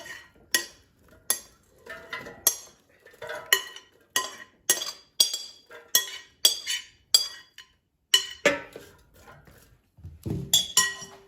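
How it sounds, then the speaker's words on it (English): A spoon moves a mushroom and onion mixture into an air fryer basket, making a string of bright metallic clinks and scrapes in an irregular rhythm, close and fairly loud, with short quiet gaps between them. "add mushrooms and onions mixture to the air fryer basket"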